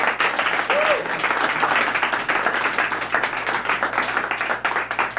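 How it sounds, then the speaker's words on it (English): Applause fills an awards ceremony hall for a trivia event, a dense, steady wash of many hands clapping at close range that carries evenly throughout without a break. "I think he deserves a round of applause"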